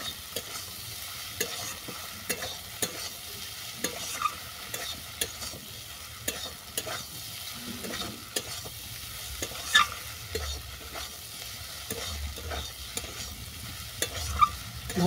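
Okra being stirred with tarka spices in a frying pan, repeated scraping and clinking of a spatula over a low sizzle, close and fairly quiet with no speech.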